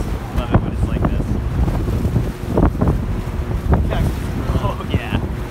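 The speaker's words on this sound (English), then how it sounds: "There's a lot of wind." Strong gusting wind buffets the microphone outdoors near a boat on open water, a loud continuous rumble with scattered knocks and rattles throughout.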